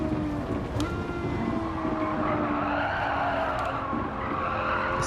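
A Lamborghini Murcielago skids with a sustained tire squeal during a racing video game, its engine roaring loud and steady throughout without a break.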